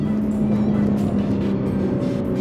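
A BMW G80 M3 accelerates hard in third gear, its engine a loud, close, sustained drone with a steady tonal hum and no break across the whole stretch.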